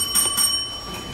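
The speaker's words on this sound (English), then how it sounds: "will ring the bell, which sounds like this" A timekeeper's bell at a candidate forum rings two quick bright strikes close by, followed by a clear, sustained ringing decay with no talk.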